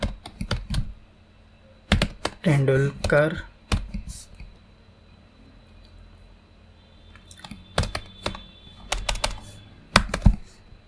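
Computer keyboard typing while JavaScript object properties are entered, coming as irregular bursts of close clicks separated by pauses, with a brief stretch of nearby talk near the start.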